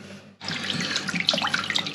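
Water from a fully opened ball valve on an incoming main in a flat gushes at full pressure, a steady loud hiss and splash that starts abruptly after a brief quiet moment and runs on continuously.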